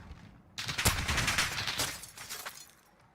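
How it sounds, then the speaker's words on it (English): Rapid bursts of gunfire in a first-person shooter video game during a 2v2 esports tournament, a dense volley of sharp shots lasting a couple of seconds at moderate volume. "You saw some good gunplay by Jam and Joel in the last round."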